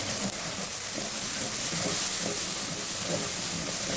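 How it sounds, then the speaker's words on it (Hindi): Spice paste with salt, turmeric, chili and whisked curd frying in ghee for an aloo choliya curry, a steady close sizzle and hiss running without a break. "अब मैं इसको भूनने लगी"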